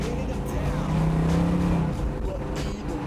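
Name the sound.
Chevelle SS wheelspin, tires spinning on launch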